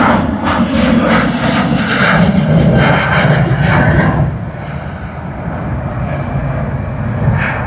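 A jet airliner departs Sydney Airport in daylight, its steady, loud engine roar holding close and then easing slightly as it pulls away, alone without talk.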